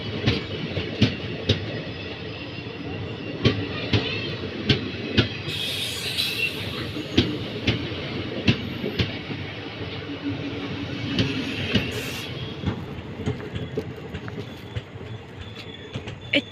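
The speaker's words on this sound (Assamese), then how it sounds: "এতিয়া আহি গ'ল ট্ৰেইন" A passenger train pulls into a railway station in Assam, its wheels clattering in a steady clickety-clack rhythm with occasional squeals and a heavy rumble close by, ongoing throughout.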